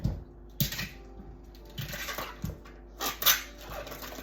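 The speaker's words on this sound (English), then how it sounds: "So I'm gonna go ahead and cut up my sausage." Knife slicing through sausage on a board for Cajun red beans, a few separate crisp taps and scrapes spaced through the clip, close and fairly quiet, with no talking.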